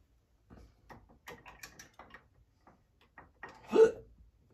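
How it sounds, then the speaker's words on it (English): Hiccups from a person at an indoor paint party, a few small soft clicks and catches, then one sharper, louder hiccup near the end, with quiet pauses in between. "I got the hiccups."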